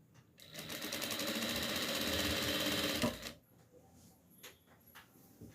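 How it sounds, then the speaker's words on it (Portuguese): Sewing machine running steadily for about three seconds while stitching lace onto cloth for a rag doll hat, a loud rapid needle whir that stops abruptly, followed by a few soft clicks and handling sounds. "Vou vir aqui costurar a minha renda."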